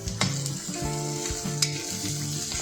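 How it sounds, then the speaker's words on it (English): Ground spices, masala and curry leaves sautéing in a pan for a sponge gourd stir fry, a continuous close sizzle with rhythmic scraping strokes of a stirring spoon, no voices. "Saute all the spices for a few seconds"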